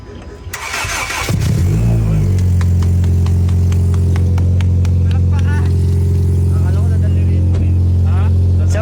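A car engine cranks briefly, catches and settles into a loud, steady idle with a deep hum, close by, after earlier battery trouble; a few clicks and rattles sound over the running engine.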